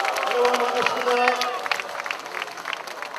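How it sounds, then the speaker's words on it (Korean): A crowd at a rally in Cheonggye Plaza claps to welcome a poet before a poetry reading for the restoration of democracy. A voice on a loudspeaker talks over the steady, fairly near applause. "큰 박수 부탁드리겠습니다."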